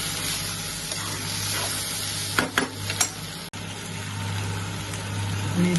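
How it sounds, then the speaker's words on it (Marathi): Whole spices and chopped onions frying in hot oil in a pan for a spicy Maharashtrian chicken curry, with a steady low sizzle punctuated by a few sharp clinks and scrapes of a stirring utensil. "सगळा भाजून घ्यायचा मस्त तेलामध्ये"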